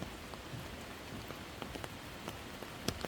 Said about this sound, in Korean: 빗소리를 직접 온전히 들을 수 있어